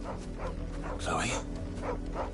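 A dog in the Final Fantasy XVI video game gives short barks and whimpering yips, several quick calls close by, with a voice talking over them.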